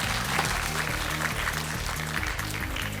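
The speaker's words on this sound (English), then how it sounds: "students, cheer for your friends as they go to the court" Students in a school lecture hall clapping and cheering for friends heading out to a tennis court, a steady continuous wash of applause over a repeating low background tone throughout.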